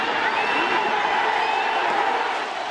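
A loud, dense baseball stadium crowd roars continuously during a postseason game, a sustained wash of many voices cheering without pause.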